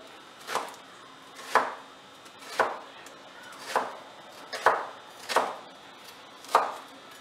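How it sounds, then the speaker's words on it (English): A knife chops through onion on a cutting board in seven crisp, evenly spaced strokes, each a sharp close knock, with quiet pauses between and no talking. "we're going to go ahead and just make slices about that thin"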